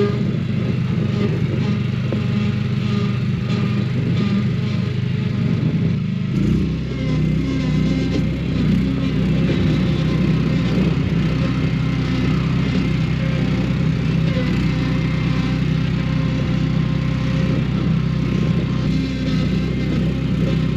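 A tractor with a flat tire drives back over to the barn on a snowy farm, its engine droning steadily and close throughout, with a slight shift in the low rumble partway through.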